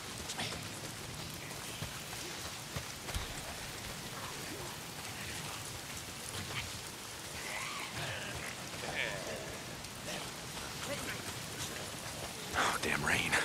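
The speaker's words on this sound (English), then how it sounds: "Oh, damn rain. If it's not the freaks, it's the goddamn rain. Why is it always raining?" Steady heavy rain hisses and patters continuously across the surroundings in the video game Days Gone, a dense even wash of drops that swells slightly louder near the end.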